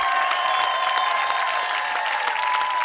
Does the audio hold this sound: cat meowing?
no